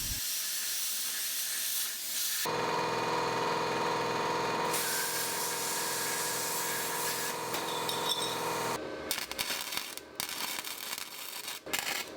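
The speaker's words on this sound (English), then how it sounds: "I'm using some large washers here that I can use as a guide to run the plasma cutter around" Steady loud hiss of a plasma cutter cutting a hole in the steel of a homemade firebox camp stove, run continuously for several seconds, then breaking into shorter bursts and sputters near the end.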